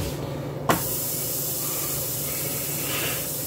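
Buttered bread for a grilled mac and cheese sandwich hits a hot pan with a soft thud, then a steady, close sizzling hiss continues without pause and no talking.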